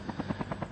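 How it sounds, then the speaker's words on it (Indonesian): Helicopter in the Call of Duty Mobile battle royale, hovering overhead near the Sakura area of the map. Steady rhythmic rotor thumping, about ten beats per second, close and constant, with no voices. "Ada helikopter kat atas tu"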